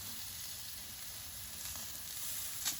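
Lobster sizzling on a grill over medium heat, a quiet steady hiss with faint crackles and one small pop near the end, no talking.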